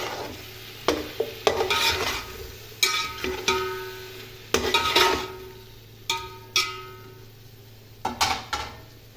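Chicken meat frying in a pot for degi chicken pulao, with intermittent close scraping and clanking stirs against the metal over a faint, low sizzle.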